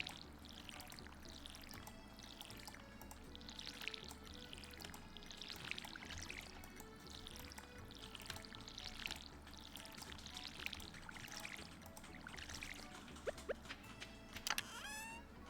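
A watering can pours water in a farming video game: a quiet run of short, splashy pours repeating at a steady pace of roughly one per second, with no talking.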